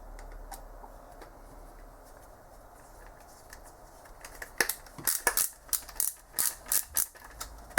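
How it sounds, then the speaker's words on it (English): A 10mm screw is driven into a printed filament buffer part, giving a run of sharp, close clicks and ticks in an irregular rhythm after a quieter start. "So let's just enter a screw there. This is also 10mm screws."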